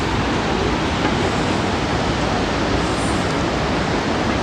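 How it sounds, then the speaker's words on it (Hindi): Waterfall dropping from a great height beside the Yamunotri trek trail in the Himalayas, a steady, loud broadband roar of falling water that fills the whole clip without letup. "एक सामने सुंदर सा वाटरफॉल जो कि"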